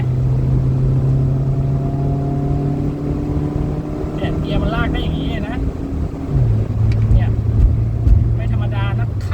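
A Toyota car engine idles with a steady low hum close by, its pitch stepping slightly higher partway through, while someone talks over it.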